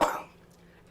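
A single short cough, close and fairly loud, from a woman giving a tarot-style reading, fading quickly into quiet room tone.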